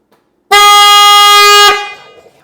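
Added horns on an Indian Pursuit motorcycle blare in one loud, steady blast of about a second and a quarter, with a quick dip just before it cuts off and a short ringing tail.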